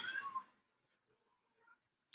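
A house cat gives one short, clear meow close by, then silence, with a faint click at the very end.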